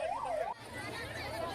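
An ambulance siren wails at the scene of a temple stampede in Bihar, a rising and falling tone over crowd noise and traffic rumble, briefly cut off midway before continuing more faintly amid chatter.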